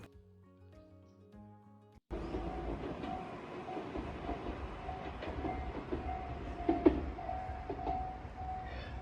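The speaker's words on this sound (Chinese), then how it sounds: "我就搭电车回鬼怒川温泉站了。" A Tobu Railway electric train near Kinugawa Onsen rolls along the rails, a steady rumble and rattle with faint rhythmic clacking that begins abruptly after a short stretch of music.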